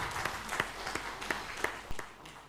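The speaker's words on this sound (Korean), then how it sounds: "우리 박수로 하나님께 영광 돌리겠습니다" A church congregation claps in praise during a Sunday worship service, a dense, steady patter of many hands with a few sharper individual claps standing out, close and fairly loud with no talking.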